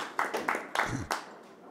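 An audience at a professional 8-ball pool match applauds a shot, a few quiet, separate bursts of clapping spaced out over under two seconds, with a faint voice also present.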